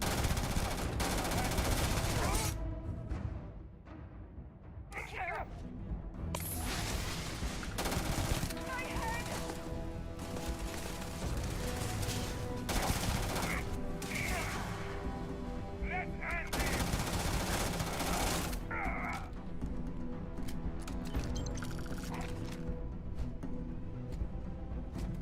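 Gunfire in the Starfield video game: loud, dense bursts of rapid automatic shots and single cracks keep coming over a steady rumbling bed, with voices now and then.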